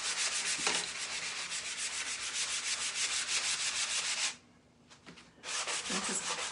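Worn sanding block rubs back and forth over chalk-painted wood, a close, steady scratchy rasp that stops for about a second midway, then resumes.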